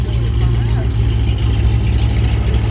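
Dodge Challenger fitted with Karnage mufflers, a deep low exhaust rumble that stays loud and steady up close, with people talking over it.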